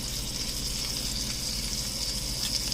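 Salmon steak searing in a hot pan, a steady close sizzle with bright crackling spatter running evenly throughout, no voices.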